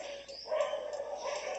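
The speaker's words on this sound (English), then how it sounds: "sorry for the dogs" Dogs barking somewhere nearby, a few sharp yips and barks running together over a steady background for under two seconds, moderately loud with no talk.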